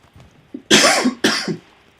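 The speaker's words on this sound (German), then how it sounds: "Entschuldigung nochmal wegen dem Husten," A streamer coughs twice during a live Battlefield 3 session: two loud, close, harsh coughs about half a second apart, each followed by a short rasp, after a faint low murmur.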